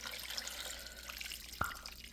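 Water pours steadily into a crock pot over leftover fried chicken for soup, a continuous faint splashing with a brief sharp knock near the end, no talking.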